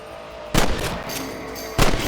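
Two loud rifle shots ring out in Red Dead Redemption on PC, the first near 0.5 seconds and the second about 1.2 seconds later, each a sharp broadband crack with a decaying tail over low ambient background.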